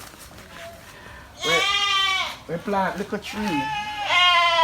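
Goats bleating on a farm: several loud, wavering bleats in a cluster, close by, with someone talking between and over them.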